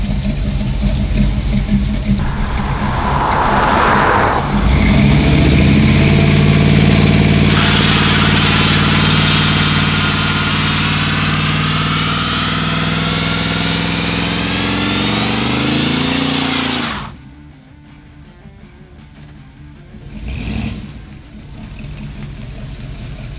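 A car engine roars loudly and steadily through a tire burnout, its pitch rising and sweeping as the revs climb and hold for about twelve seconds. It then cuts off abruptly, and a brief quieter rev follows.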